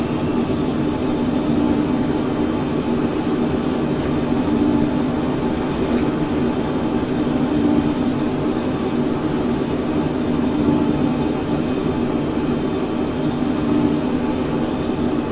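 Steady, loud jet engine roar from a Phenom 100 climbing out after takeoff in Microsoft Flight Simulator, an unbroken cabin drone with a low rumble and a thin high whine, no talking.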